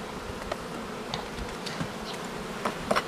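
Honey bees at an apiary, a soft continuous buzz with occasional individual insects passing close, faint and without speech.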